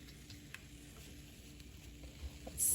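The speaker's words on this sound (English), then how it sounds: "Oh, can you hear it sizzle?" Butter melts in a hot pan with a faint, steady crackling sizzle, quiet and close, with no talking.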